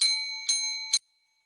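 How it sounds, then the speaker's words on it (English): A hand bell rings three times in quick succession, clear and bright with a ringing tone that stops abruptly after the third strike. "I haven't been ringing the bell"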